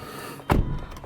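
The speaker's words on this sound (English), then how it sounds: "And if I close the door," A Hyundai Veloster car door swings shut with a single solid thunk, close and fairly quiet, followed by a brief settling rumble.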